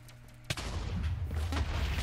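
A bomb explodes in a block-based game: low ambience cut by a sudden loud blast at about half a second, then a sustained rumbling roar of crumbling debris through the rest of the clip.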